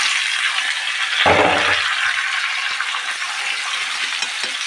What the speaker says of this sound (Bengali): আলুটা নেড়ে নেড়ে একটু ভাজা ভাজা করে নিতে হবে